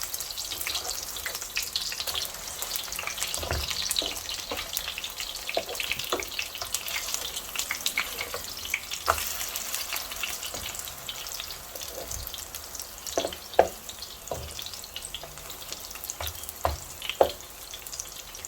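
Chicken chapli kebabs frying in a pan over medium-high heat, a steady bright crackling sizzle throughout with occasional louder pops and spatters, close and continuous.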